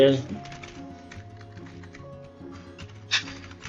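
Keys clatter in quick light bursts on a computer keyboard while building a WordPress portfolio site in Elementor, close and fairly soft beneath a man's steady speech, with music playing faintly behind.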